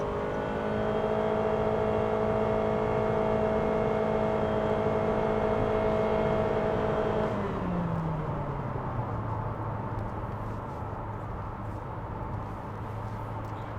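Honda HR-V EXL engine revving steadily in Sport mode, a loud sustained drone that holds high for about seven seconds, then drops in pitch and settles back toward idle, with no talking.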